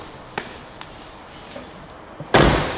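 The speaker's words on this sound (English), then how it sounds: "But door shuts just fine." A single solid car door slam near the end of a Nissan R32 Skyline GT-R with an aftermarket JDM body kit, preceded by a few faint clicks and taps over quiet background hiss.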